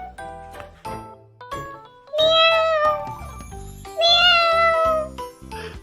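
Two long, drawn-out meows from a cartoon cat, loud and close, over a backdrop of light chiming tones.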